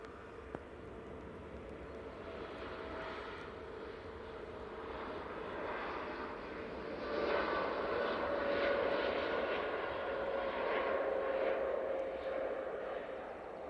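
A TUI Boeing 787-8 Dreamliner in high configuration taking off at Manchester Airport, a broad steady jet roar heard from a distance that swells and grows louder toward the end, with no talk over it.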